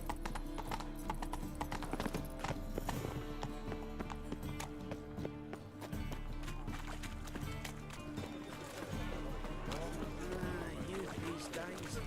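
In The Witcher 3, the horse Roach gallops with a steady, quick clip-clop of hooves that carries on throughout, set against a continuous game soundtrack.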